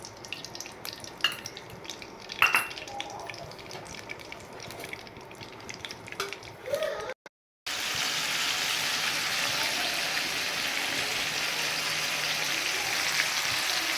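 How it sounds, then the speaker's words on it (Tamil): Coated prawns frying in a little oil in a wok, a steady loud sizzle that starts abruptly after a brief silence and holds evenly, with lighter clinks and handling noises before it. "இப்போ நம்ம கோட் பண்ணி வச்சுருக்க இறாவை இப்போ பொறிக்க போகிறோம் வானலில் கொஞ்சமாக எண்ணெய் ஆட் பண்ணிப்போம்"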